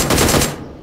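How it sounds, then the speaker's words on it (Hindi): Rapid automatic gunfire in the mobile game PUBG Mobile on the Livik map, a loud, close, dense burst of shots lasting under a second before cutting off. "कोई गोली चला रहा है"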